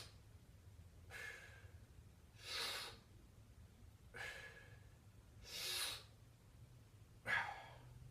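A person doing a breathing exercise takes several slow, audible breaths in a steady rhythm, each a soft airy rush lasting about half a second, close to the mic against a low background hum.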